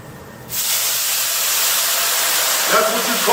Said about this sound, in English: That's what you call the honorable sizzle.